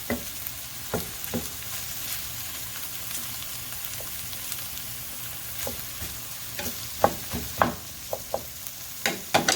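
Mushrooms and beef brown in a pan for beef stroganoff with a quiet, continuous sizzle. Scattered spatula scrapes and clicks grow sharper toward the end.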